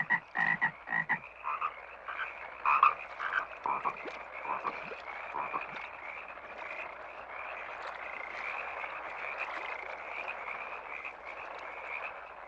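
Frogs croak in a dense chorus, a few loud close calls at first giving way to a steady, continuous trilling that carries on throughout with no voices.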